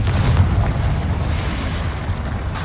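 Confringo fire spell exploding in the video game Hogwarts Legacy, a loud, sustained booming blast with deep rumbling that holds steady throughout.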